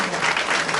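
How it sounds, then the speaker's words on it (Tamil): An audience claps in a hall at a Thirumurai conference's Pavai festival, a brief, dense burst of steady applause heard close and loud, with no voices over it. "அதற்கு அவருக்கு திருவருளுக்கும் அவருக்கும் ஒரு பலத்த கரகோஷம் கொடுக்கணும்."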